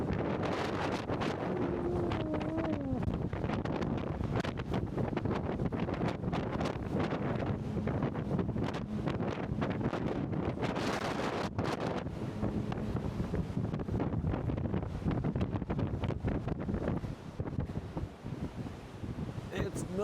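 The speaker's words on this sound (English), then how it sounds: "It's most definitely windy." Strong wind at sea buffets the microphone on the deck of a cruise ship, a loud continuous rushing roar with gusty surges that never lets up, faint voices occasionally mixed in.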